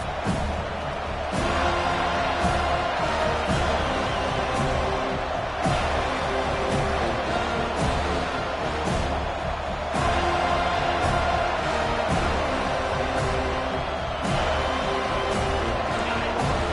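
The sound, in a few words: football stadium crowd cheering loudly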